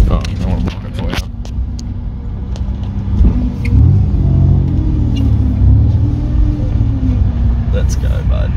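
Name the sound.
car reversing a trailer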